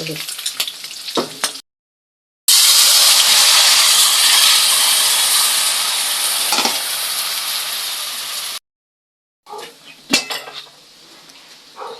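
Loud, steady sizzling of vegetables frying in hot oil fills most of the stretch, broken by brief silences and a few clinks of utensils against a pan.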